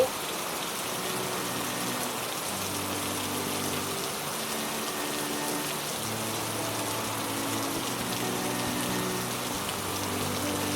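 Steady rain falling in a wheat-field setting, a constant dense hiss of drops on surfaces with a low continuous rumble beneath, even and unbroken throughout.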